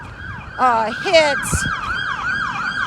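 An ambulance passes with its siren wailing in a repeating rising and falling cycle, loud and near over street noise, with a brief voice and a short horn-like blast partway through.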